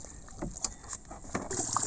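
A small island fishing boat is paddled before dawn after its engine fails, with soft, close water splashes and swishes from the strokes over light wind noise.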